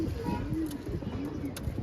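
Sick pet pigeons coo softly and repeatedly at close range, a low rolling warble over a steady background hum.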